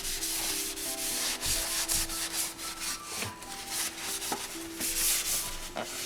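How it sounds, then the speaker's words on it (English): A power sander works over JB Weld body filler on a Yamaha FZ600 motorcycle part, a steady close abrasive hiss with a humming tone and rhythmic rubbing strokes running the whole time, no talking. "with the power sander it went right away"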